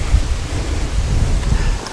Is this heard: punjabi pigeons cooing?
no